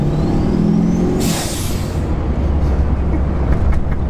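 Heard from inside the cab with the windows up, a compound-turbo Duramax diesel truck engine runs loud and low, its steady drone joined by a sharp hissing burst about a second in.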